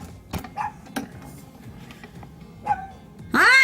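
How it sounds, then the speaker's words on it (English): A dog barks a few scattered times, then lets out a higher yelping whine at the end, set against a quiet room. "There's my dog, can you hear her?"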